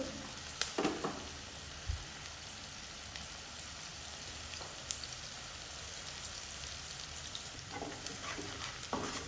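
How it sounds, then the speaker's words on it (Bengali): Steady crackling sizzle of salted onions frying in hot oil until browned, close up, with a few scraping stirs and no talking. "পেঁয়াজটাকে খুব বাদামি করে ভেজে নিতে হবে"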